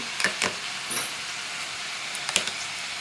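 Ginger garlic paste sizzles with mutton in a pan, a soft steady hiss broken by a few short crackling pops.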